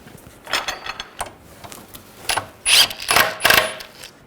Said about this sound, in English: Snug that nut first.